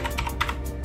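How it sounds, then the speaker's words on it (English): Several quick key presses on a LINGBAO Jiguanshi mini mechanical keyboard with white keys, crisp clacky taps in an uneven run, close and distinct with no talking. "Slowly, I hit function INS, which means insert, I believe."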